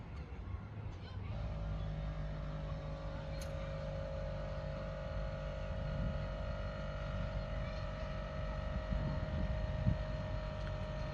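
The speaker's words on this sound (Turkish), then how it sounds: "Kompresörün sesini duyun diye." A steady mechanical hum of an air suspension compressor raising a Mercedes Vito 112 CDI van outdoors, with a constant tonal whine over a low rumble throughout.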